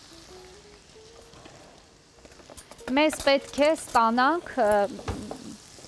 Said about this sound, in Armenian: ես արդեն վերմիշելը կլցնեմ այստեղ և կսկսենք կամաց-կամաց տապակել